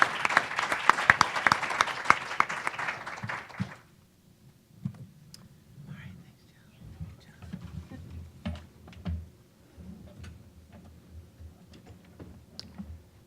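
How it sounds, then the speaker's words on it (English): Dense clapping from a crowd fills the first few seconds, then cuts off, leaving quiet room noise and scattered faint clicks and movement. "please join me in a round of applause."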